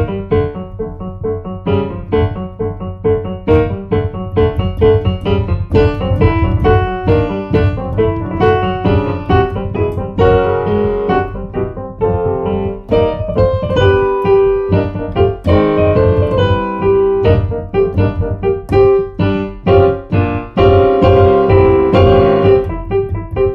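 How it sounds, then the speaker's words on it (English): Piano playing the Frère Jacques round rearranged in a Prokofiev-like style, with aggressive folk-dance rhythms, loud and continuous, busy chords and percussive accents throughout, alone with no voices. "So Ferrojack in the style of Prokofiev would sound like this."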